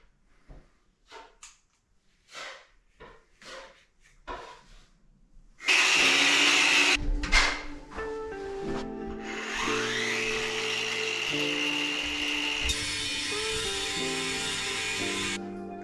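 A power tool cuts trim to fit during a farmhouse ensuite renovation in Ireland. A few short knocks and scrapes come first, then a loud, sustained whining cut runs to the end.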